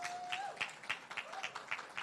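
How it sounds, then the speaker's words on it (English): Audience applause at a Jamaican festival event, greeting an introduced company executive: fairly quiet, distant clapping with a thin whistle-like tone gliding over it early on. "Round of applause."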